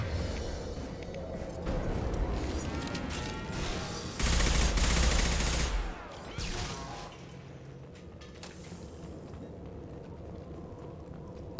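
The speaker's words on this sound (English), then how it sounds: "I love that collector weapon. Brilliant. Rips through everything." A collector weapon firing in Mass Effect Legendary Edition: a dense, loud burst of rapid shots lasting about two seconds, set within a busy combat soundscape that fades to quieter ambience afterward.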